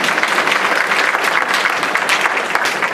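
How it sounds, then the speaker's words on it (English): An audience at a school district board of education meeting claps steadily for about three seconds, a dense, fairly loud patter of many hands with no voices over it. "That deserves a clap, 26 years."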